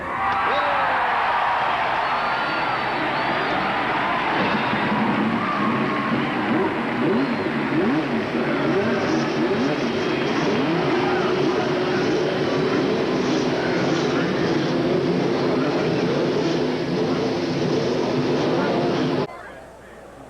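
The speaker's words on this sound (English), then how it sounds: "Gentlemen, start your engines." Race car engines roar together at Indianapolis Motor Speedway, a loud, sustained, layered rumble and whine of many engines running at once, with a crowd-filled wash around it, then dropping away near the end.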